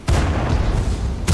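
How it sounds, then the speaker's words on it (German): A tank cannon fires in a video game, a single deep, loud boom with a rumbling tail, followed by a second sharp blast right at the end. "Schöner Schuss"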